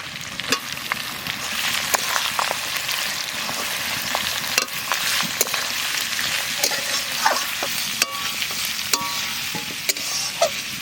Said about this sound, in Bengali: এবার এই কোচানো পেঁয়াজটা দিয়ে দেবো।